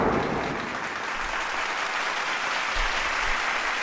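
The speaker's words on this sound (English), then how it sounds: "Round of applause for that" Steady round of applause from a small group in a casual pub-style setting, dense continuous clapping close by and fairly loud, holding evenly throughout.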